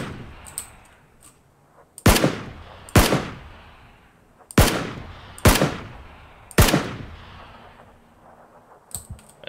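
Gunfire in a video game: five loud, sharp shots spaced about a second apart, each with a ringing decay, over faint clicking and background noise, with no talking.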